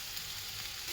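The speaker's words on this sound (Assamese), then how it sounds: "মছলাখিনি ভজা হৈ গৈছে।" Ground cumin and coriander frying in a pan for spicy bhelpuri, a faint steady sizzle over one brief moment.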